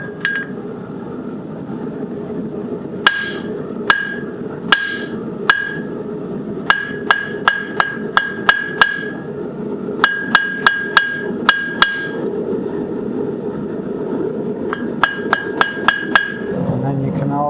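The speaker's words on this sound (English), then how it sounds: "the impact of the hammer can be pretty subtle" Hammer blows ring on an anvil as a blacksmith forges a J hook, with bright clinking strikes in irregular bursts separated by short pauses.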